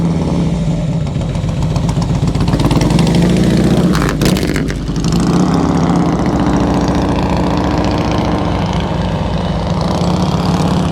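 A motorcycle engine chugs steadily at low revs, loud and close, during slow-speed riding practice with throttle, clutch and rear-brake control. A brief rise around the middle suggests a blip of throttle, and the lumpy idle-like rumble continues throughout.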